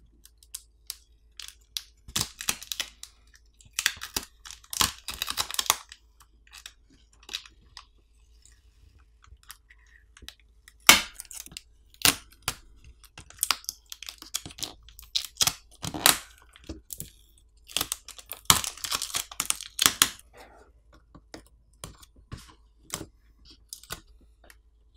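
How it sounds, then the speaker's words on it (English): Small crackling and clicking noises come in scattered bursts as yellow protective tapes are peeled off the connectors inside an AGM Pad P1 waterproof tablet during disassembly. The sounds are close and fairly faint, with no talking. "The yellow protective tapes over the connectors need to be removed."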